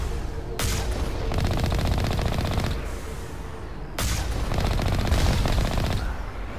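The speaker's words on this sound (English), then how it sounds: "shooting them with a big gun first and then with a machine gun" Machine gun fire in the Mass Effect video game, two long sustained bursts of rapid loud automatic shots separated by a short lull, with no voices.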